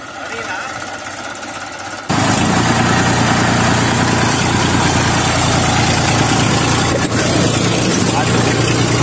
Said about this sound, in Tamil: டிராக்டர் வச்சு நிலத்தை உழுதுட்டு இருக்காங்க.